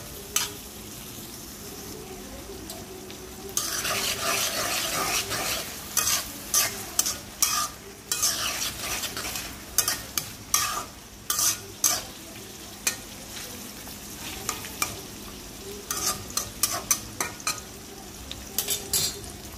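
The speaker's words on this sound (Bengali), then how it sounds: "পেঁয়াজ দিলাম, তেল পরিমাণ মতো। পেঁয়াজটা ভালো করে ভাজবো।" Onions frying in a measured amount of oil, a continuous sizzle broken by frequent bursts of stirring and scraping in the pan, close and fairly loud, with no talk.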